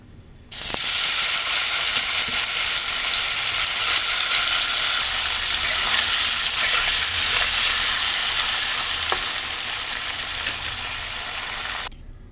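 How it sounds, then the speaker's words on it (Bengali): Small paneer pieces with salt and turmeric frying in hot oil, a loud continuous close sizzle that starts abruptly, holds steady with a couple of faint knocks, then stops suddenly. "একটু নুন আর একটু হলুদ দিয়ে এগুলোকে ভেজে নেব।"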